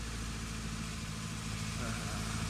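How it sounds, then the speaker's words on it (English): A car engine idles at traffic lights, a steady low rumble that holds throughout with faint, murmured voices over it. "Keep the engine running."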